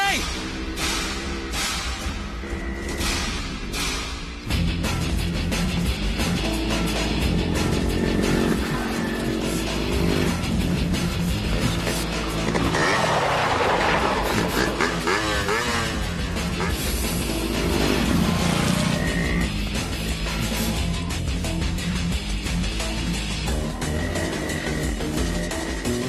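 A motorcycle rides past with a sustained engine drone that swells and fades. It plays under loud film music, with voices talking over it.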